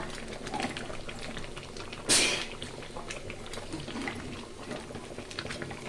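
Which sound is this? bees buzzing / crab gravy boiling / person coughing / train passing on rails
crab gravy boiling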